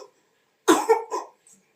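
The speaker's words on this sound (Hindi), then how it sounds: "खांसी सर्दी, एकदम नाक पानी पानी हो गया है" A child with a cold gives a single short burst of coughing, two or three quick hacks close together, heard near and loud against silence.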